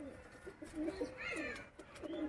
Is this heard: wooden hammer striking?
no